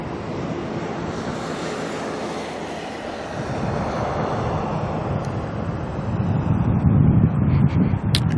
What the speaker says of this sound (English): He just came right over my head.